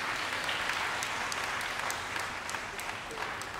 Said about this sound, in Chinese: 师生合奏，是不是掌声要更大声一点？